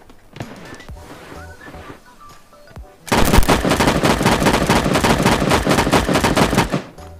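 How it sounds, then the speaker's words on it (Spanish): Sustained automatic gunfire erupts from the Sausage Man battle royale game, loud and dense rapid bursts after a quieter stretch of distant scattered shots and game ambience. "¿Se escuchan disparos acá abajo?"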